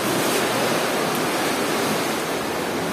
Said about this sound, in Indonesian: Cuma ombaknya besar.